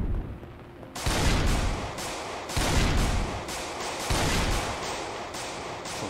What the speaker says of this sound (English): We hear gunshots.